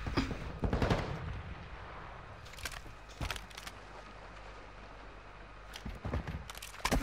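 Gunfire in Call of Duty Warzone 2.0: a few sharp bursts of shots near the start and end, with scattered single cracks in between over a steady low background rumble.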